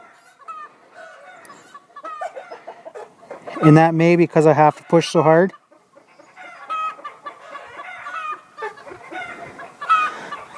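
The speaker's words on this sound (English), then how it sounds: "If you're wondering why the chickens are going bananas, it's because someone laid an egg." Hens cluck loudly and excitedly after one has laid an egg, a rapid run of repeated squawking calls near the microphone, with someone talking intermittently before and after the burst.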